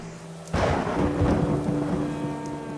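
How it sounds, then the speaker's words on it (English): Heavy rain pours steadily over a cob house build site in East Devon, and a sudden rolling crack of thunder breaks in and then rumbles on beneath the downpour. "The rain's just come wave after wave."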